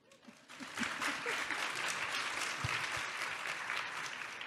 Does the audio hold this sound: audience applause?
yes